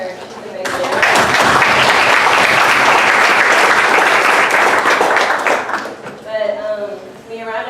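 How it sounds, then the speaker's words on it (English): An audience claps in a loud, dense burst of applause that swells quickly and holds for several seconds, then fades as a voice resumes speaking. "y'all please clap for her"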